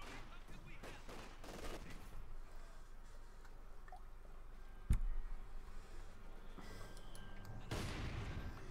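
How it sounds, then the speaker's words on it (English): Mortar fire crashes through a video game battle, with one sharp, loud impact standing out amid a busy, dense wash of distant gunfire and explosions, followed by a brief rumble. "Bit of mortar fire here."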